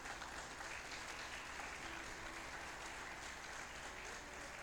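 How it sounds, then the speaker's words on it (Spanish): A church congregation claps together for the Lord, a steady dense wash of applause that holds evenly from start to finish without breaks or voices. "den un fuerte aplauso al Señor"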